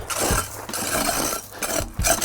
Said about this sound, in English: I'll just take a hoe here